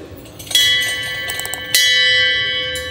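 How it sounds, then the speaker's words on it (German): A bell rung twice as a sound effect in a German sports-versus-business challenge show: two bright metallic strikes with shimmering, slowly decaying ringing overtones, the second about a second after the first. "man reiche mir die Glocke, die ich immer vergesse"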